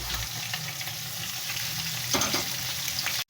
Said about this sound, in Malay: Goreng ikan tu hingga garing ya.